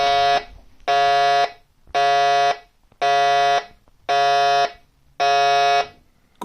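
A battery-powered GoBots Command Centre toy, running on a D battery, sounds a loud, harsh buzzing alarm in six evenly spaced blasts of about half a second each, alone and close.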